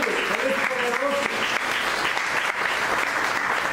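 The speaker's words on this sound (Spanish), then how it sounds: "Den una ofrenda de palmas a Dios." Church congregation applauding, a dense sustained wash of clapping from many hands filling the space evenly throughout, with a voice faintly audible beneath it.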